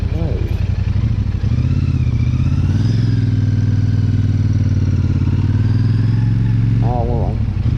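Royal Enfield Super Meteor 650 motorcycle with its 650 engine on a ride, a steady, close, low thrumming engine note that rises briefly, heard under someone talking.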